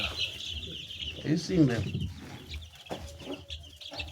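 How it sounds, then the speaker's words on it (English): Ten-day-old Kuroiler chicks cheep and cluck in a brooder, a busy chorus of high peeps heard close up beneath a person talking. "This is 10 days old Kuroiler chicks."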